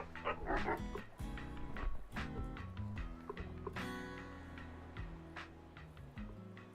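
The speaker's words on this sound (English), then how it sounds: "Well, that dog is so tiny." A tiny dog yips and barks in quick, high-pitched bursts, fairly close and busy at first, then thinning out into scattered yaps.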